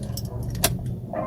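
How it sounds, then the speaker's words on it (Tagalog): Keys jangle briefly as a car key is pulled from the ignition of a Kia Sonet automatic after the engine is switched off, giving a close, soft metallic rattle with one sharper click midway. "mapapatay ko po ang makina at mahuhugot ko ang susi"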